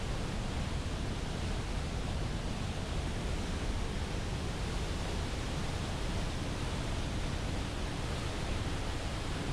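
Rushing water roars steadily through Maligne Canyon in the Canadian Rockies, a dense, unbroken torrent heard close and loud from a trail bridge, with no voices over it.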